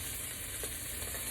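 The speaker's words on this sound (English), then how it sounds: "Gonna keep searing on the sides." Pot roast sears in a hot pan, giving a faint, steady sizzling hiss with a soft brief crackle, heard alone and close.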